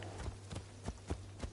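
Horse hooves clip-clopping in Assassin's Creed Shadows, a steady run of about six hollow thuds at an even walking pace, fairly quiet under a low steady hum.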